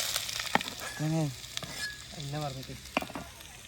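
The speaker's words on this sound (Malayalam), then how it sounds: "ഉള്ളി വാട്ടാൻ തുടങ്ങിയാണ്" Onions sizzle quietly in a hot pan at a riverside outdoor cooking spot while a voice talks over them in short bursts.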